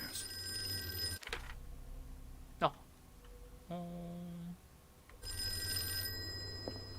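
A telephone bell rings in the Call of Cthulhu video game, sounding in two loud, steady bursts at the start and end with a quiet gap between, and a brief voice in the middle.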